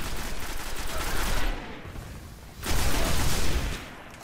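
Gunfire in the video game Destiny comes in bursts of rapid shots, loud and dense, breaking off briefly in the middle before another heavy volley starts up.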